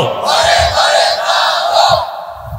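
A large crowd at an outdoor Islamic religious sermon (waz) chants takbir in unison, loud and sustained, with the massed voices swelling in repeated waves.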